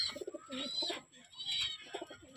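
Racing pigeons coo close by in soft throaty bursts with a few sharper chirps, overlapping phrases across the short stretch.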